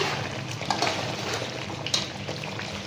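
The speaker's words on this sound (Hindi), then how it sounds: "अभी इसको तब तक भूनेंगे जब तक ये पूरा ऑयल नहीं निकाल दी।" Meat for bhuna gosht fries in oil with a close, dense sizzle and a couple of soft stirring knocks over a few seconds, no voices.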